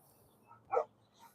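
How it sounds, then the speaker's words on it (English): A dog barks once through a fence, a single short, moderately distant bark with a fainter yip before and after it in a quiet setting. "There's a dog barking at me right now"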